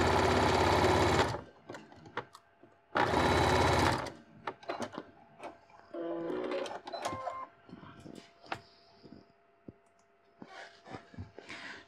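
A sewing machine stitches a zipper pouch seam in two loud, steady bursts, each about a second long, followed by quieter handling clicks and rustles with no talk.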